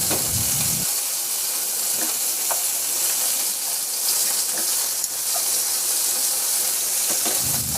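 Chicken pieces sizzle steadily in a pan, browning before being flipped, with a dense, continuous crackle and a few sharper pops, close and fairly loud throughout.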